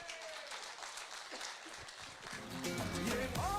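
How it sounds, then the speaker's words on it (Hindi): Applause from a seated audience at an election get-together greets a speaker as he is introduced, a steady wash of clapping that swells louder toward the end, with some murmuring and movement mixed in. "भरपूर तालियों में"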